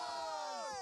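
Crowd of esports players at a Valorant match cheering and screaming together at the end of a round, a loud sustained high-pitched burst of overlapping voices.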